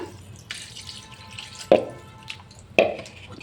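Water added to a pan of shol (snakehead) fish curry, heard as two sharp, splashy plops with trickling drips over a quiet kitchen background.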